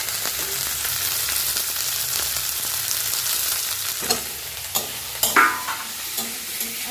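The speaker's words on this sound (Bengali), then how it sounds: "ধনে পাতা ক্যাপসিকামটা দিয়ে এগুলো সব দিয়ে আলুর মধ্যে দিয়ে ভালো করে কষাবে" Potatoes with coriander leaves and capsicum sauté in a pan, a steady loud sizzle running throughout with occasional scraping stir strokes toward the end.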